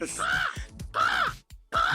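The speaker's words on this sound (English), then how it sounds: "Those are our birds." Crows caw loudly and close by: three harsh, drawn-out calls with short gaps between them, and no other sounds alongside.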